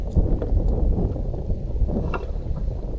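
Strong wind roars and buffets across an open lake during kayak bass fishing, a steady low rumble of gusts battering the microphone, with faint splashes and no talking.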